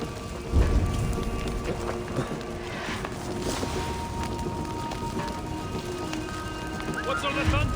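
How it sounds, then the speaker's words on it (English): Steady heavy rain pours throughout a thunderstorm in the game Assassin's Creed Valhalla, with a low thunder rumble early on; the downpour stays loud and constant. "What's all the thunder about?"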